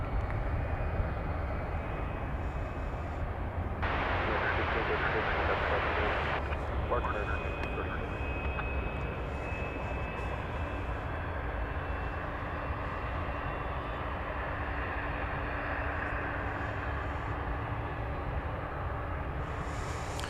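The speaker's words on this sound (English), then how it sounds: "It's a 6-year-old aircraft headed across the Pacific." Airliner jet engines roar steadily at DFW Airport at night, a broad continuous rumble heard from a distance with a brief hiss surge early on. Someone speaks over it for most of the time.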